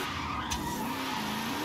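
A slowish wagon slides sideways in the racing game Forza Horizon 5, its tires squealing in a continuous skid over the engine's drone.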